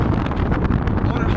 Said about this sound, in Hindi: इतनी तेज़ हवा है कि कुछ आवाज़ आ रही है कि नहीं आ रही